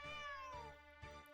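A cat meows in the video game 1bitHeart, one long drawn-out meow that slides down in pitch, then fades into a soft musical tone with two faint thumps.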